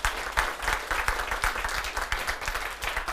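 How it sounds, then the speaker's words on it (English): Audience applause at a Nordic Culture Point panel discussion, a dense, even round of clapping from a seated crowd lasting a few seconds, with no one speaking over it. "I want you to give a big applause to Isse"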